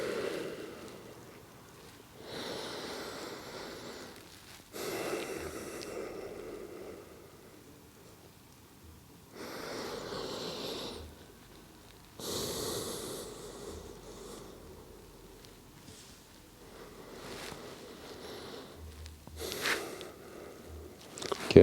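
Slow deep breathing during a yoga stretch, long airy inhales and exhales repeating every few seconds, close and alone.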